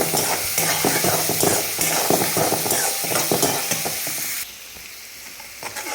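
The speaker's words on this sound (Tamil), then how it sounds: "இந்த பச்சை மிளகா, வெங்காயத்தையும் வந்து போட்டுடுறேன். வெங்காயம் நல்லா வந்து வதங்கட்டும்." Onion and green chilli sauté in a pan with a loud, crackling sizzle and busy spoon scrapes and clinks. Near the end the sound drops to a quieter, steady frying, all close and with no talking.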